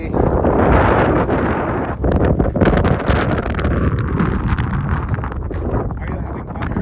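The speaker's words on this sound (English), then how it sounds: "Cold and windy." Winter wind storm buffets an iPhone microphone at a teardrop trailer campsite on Antelope Island, loud rumbling gusts roaring and crackling almost without pause, with a voice speaking briefly beneath the noise.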